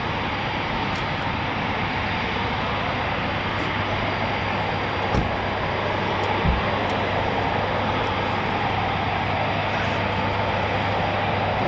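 Military jets with General Electric engines thunder at an RAF Coningsby airshow, a loud continuous broadband roar that holds steady throughout, no voices.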